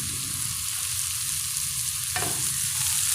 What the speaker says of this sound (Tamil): இப்போ நாம் வெங்காயத்தை சேர்த்துடலாம். கூடவே நாம் கருவேப்பிலை சேர்த்துடலாம்.